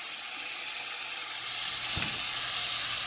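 Salmon pieces fry in oil in a pan with a steady, bright sizzle throughout, and a soft thud midway as a piece goes in.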